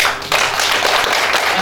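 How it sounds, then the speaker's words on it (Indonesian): Short burst of audience clapping at a community fire-safety awareness event, starting abruptly and filling the room at close range for over a second. "Tepuk tangan buat kita."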